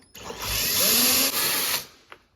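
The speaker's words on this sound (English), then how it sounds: "I'm going to take an 8mm socket on the end of a power screwdriver and remove these" A power screwdriver fitted with an 8mm socket removes fasteners from a Ford Explorer's exterior light assembly, giving one close, steady whirring run of about a second and a half that stops abruptly, followed by a faint click.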